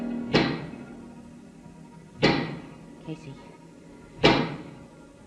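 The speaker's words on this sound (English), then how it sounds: "That is the sound of a giant pick." A giant pick strikes three heavy, evenly spaced knocks in a radio drama mine scene, each a sharp thud with a short ringing decay, and a brief softer tap falls between the second and third blows; a voice speaks a single word.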